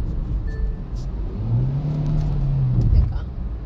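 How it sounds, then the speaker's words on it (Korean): A Hyundai Avante CN7 engine rises in a smooth, droning rev as the accelerator is pressed hard on a winding road. The sound is heard from inside the car, under conversation between occupants. "악셀을 세게 밟으면 그냥 그런 소리가 나나 봐"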